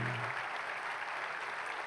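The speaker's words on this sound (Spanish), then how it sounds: "Daré un aplauso al Señor." A church congregation claps in a steady, dense wash of applause that fills the whole moment at a moderate level, with a brief low hum at the start and no clear speech.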